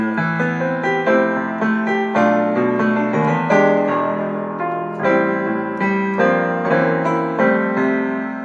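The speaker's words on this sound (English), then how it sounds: "So this is one of the pianos." Rich piano chords from an iPad 2 app played through a Casio WK-7500 ring out in a steady, flowing pattern, loud and close, with sustained notes overlapping and no talking.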